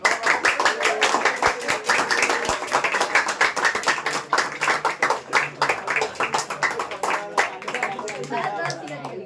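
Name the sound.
applause for Pushkar in a classroom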